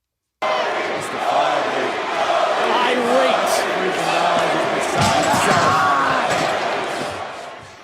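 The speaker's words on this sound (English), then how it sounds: "I did not know they were chanting Cody." A wrestling arena crowd keeps up a dense, steady roar throughout, with rhythmic chanting of a name rising and falling inside the broad noise of a packed audience.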